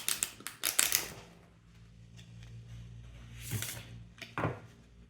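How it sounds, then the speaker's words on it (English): A tarot card deck being shuffled by hand: a quick run of soft, dry clicks and riffles up front, then quieter scattered flicks and taps, all close and faint. "So first I'm going to shuffle the deck like this in order to refresh its energy from the previous piles."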